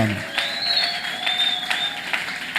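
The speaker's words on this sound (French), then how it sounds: "Acclamer très fort pour la gloire du Seigneur" A church congregation applauds in worship, steady dense clapping close by with voices and a sustained tone running underneath.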